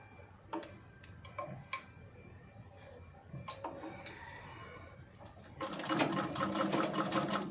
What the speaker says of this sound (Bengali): দেখো একদম মিডিলের সঙ্গে মিডিল করে আমি সেলাইটা দিচ্ছি।